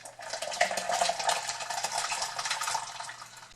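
Juice pours into a small cup in a kitchen, a close, trickling liquid stream with light splashing that rises and falls, along with faint clinks of the cup.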